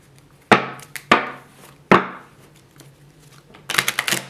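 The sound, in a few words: slow shuffling of a tarot card deck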